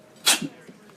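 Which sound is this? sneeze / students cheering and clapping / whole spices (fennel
sneeze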